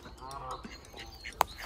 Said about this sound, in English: Look at all the squeaky ducks.